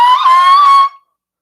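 A voice imitates a hawk screech with a single loud, piercing, sustained cry lasting about a second before cutting off into silence.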